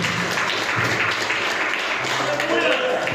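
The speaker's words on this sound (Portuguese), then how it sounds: "E as palmas logo Senhor Jesus." A church congregation claps steadily through a dense, even wash of applause at the close of a prayer, loud and continuous, with voices murmuring underneath.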